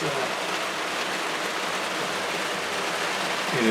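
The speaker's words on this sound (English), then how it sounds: "it is raining like crazy" Heavy rain pours down in north Florida during winter, a loud, dense, unbroken hiss of downpour close by that swells slightly toward the end.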